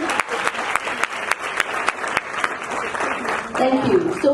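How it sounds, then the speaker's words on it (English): Audience at a school send-off ceremony claps for a provincial official, a brisk round of many hands with distinct sharp claps, tapering as a voice begins speaking near the end. "One more round of applause, please,"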